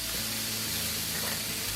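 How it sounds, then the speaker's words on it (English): A seasoned filet mignon steak sizzles loudly in olive oil in a pan, a dense continuous frying crackle held close and steady with no voices. "Get that steak sizzling."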